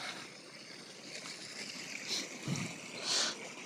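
A small waterfall flows steadily outdoors, giving a continuous, even rush of water at moderate level, with a couple of brief louder swells and no talking.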